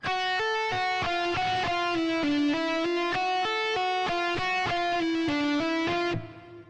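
A slow, steady electric guitar lick of evenly picked notes with a light crunch, ringing clearly on its own before fading at the end.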